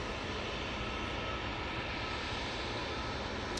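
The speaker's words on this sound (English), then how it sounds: "Aer Lingus is about to turn on to final now" An Aer Lingus airliner in retro livery turns onto final approach at Manchester Airport, heard as a steady, broad engine roar that stays even and continuous throughout with no voices.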